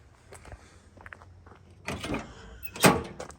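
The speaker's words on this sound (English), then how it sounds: "I'm gonna open the door to show you guys the inside of it." Car door of a 1987 Chevrolet Monte Carlo SS opening, a couple of soft clicks from the latch followed by a louder clunk as the heavy door swings open, close and alone.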